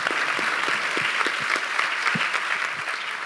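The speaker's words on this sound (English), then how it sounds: "I know you just applauded" Audience applauding together, dense steady clapping from many hands, close and lively, holding at an even level throughout.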